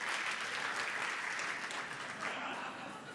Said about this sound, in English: If you trust Uber the most, clap now.